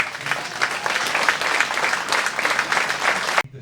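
An audience at an Extreme Benchrest 2019 airgun event claps in a sustained burst of dense applause that ends abruptly.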